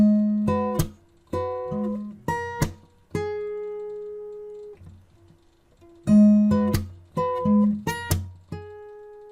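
Acoustic guitar playing part of a song very slowly, plucked notes and chord strikes ringing out in separate clusters with pauses between them, close and clear with no talking.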